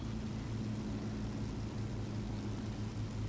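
Engines of a Messerschmitt Me 264 bomber in flight in War Thunder produce a steady, low propeller drone, even and continuous with no voices.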